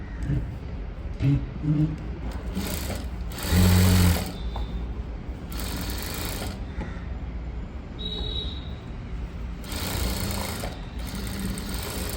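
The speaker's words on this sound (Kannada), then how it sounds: "ನೀಟಾಗಿ ಅಲ್ಲಿಗೆ ಸ್ಟಿಚ್ಚನ್ನು ಹಾಕ್ಕೊತೀನಿ" Sewing machine stitching a neat finishing line on a blouse, running in steady bursts with a continuous mechanical hum and brief louder spells, close by with no talk.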